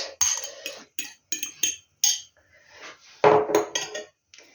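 Quick metallic clinks of a fork beating eggs against a bowl come in short bursts, near and fairly loud, followed by a longer scraping, rattling whisk.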